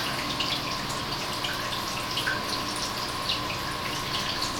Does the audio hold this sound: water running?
yes